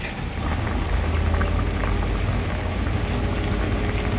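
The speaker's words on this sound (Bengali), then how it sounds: "এরপর আমি ঝোলটাকে খুব ভালো করে ফুটিয়ে নেব" A fish curry broth for puti fish boiling in a pan, giving a steady close bubbling and sputtering hiss that holds at an even level throughout.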